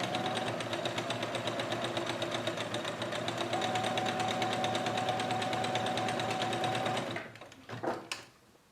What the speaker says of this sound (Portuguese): Vou fazer aqui um acabamento em zigue-zague